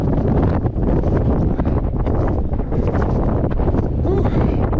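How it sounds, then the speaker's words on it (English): Strong, gusty wind at the rocky summit of Mt Monadnock buffets the microphone, a loud continuous rumbling roar with uneven surges and no clear talk. "The summit is windy, but it's cool."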